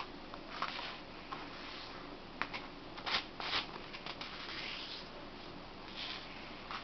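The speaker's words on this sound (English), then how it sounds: "Fold it in half, so that you will have a triangle once again." Origami paper being folded and creased by hand, crisp rustling and crinkling with a few sharper crackles, close and without talking.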